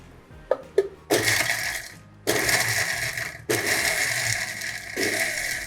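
After a few light clicks, an electric blender whirs in three short, loud bursts as it minces onion, four green chillies, a whole garlic bulb, ginger, mint leaves and coriander.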